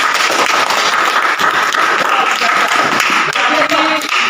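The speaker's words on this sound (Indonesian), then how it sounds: "Tepuk tangan bersama." Classroom students clapping together, a loud, dense burst of applause that runs continuously with chatter mixed in.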